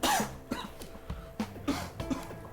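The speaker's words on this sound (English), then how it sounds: "Coughing up a storm." A run of harsh, raspy coughs, several in quick succession, close and fairly quiet.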